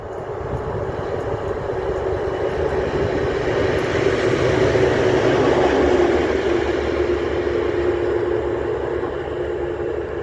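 A deep, steady diesel engine roar rumbles continuously and loud, like heavy locomotives rolling slowly past close by: an ST44 and an SM42 diesel locomotive passing a station at Bydgoszcz Leśna, Poland.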